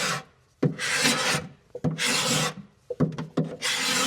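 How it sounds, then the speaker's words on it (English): A scraper rasps old finish off the wooden interior of a pie safe in a series of close, harsh strokes separated by brief pauses, with no one speaking. "First things first is I'm going to do some scraping on the inside."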